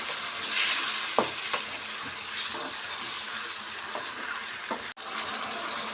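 A pan of tamarind sauce bubbles and hisses steadily, with a few soft utensil knocks and a brief dropout near the end.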